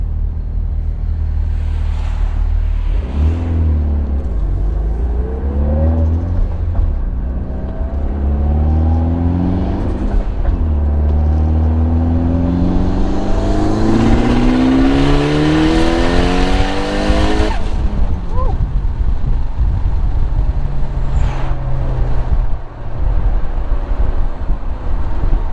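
A Mitsubishi Lancer Evo engine, an Evo X MR or Evo 9 on a dyno during a tuning session, revs up repeatedly in rising sweeps, climbing to a long loud full-throttle pull with turbo whoosh before dropping back to idle.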